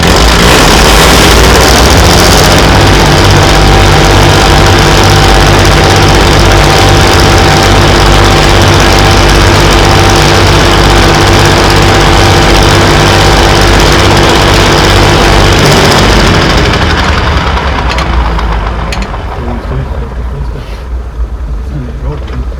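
The diesel engine of a Class 117 DMU, unit 51412, runs loud and close, starting for the first time in five years. It holds a rough, rumbling idle for about fifteen seconds, then drops noticeably quieter.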